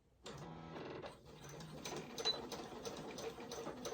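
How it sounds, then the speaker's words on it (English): A Singer sewing machine stitching fabric for scrunchies, a close, fast mechanical whirr and rattle that starts abruptly, pauses briefly, then runs on steadily, with no talking. "Sewing machine might be a little loud, y'all."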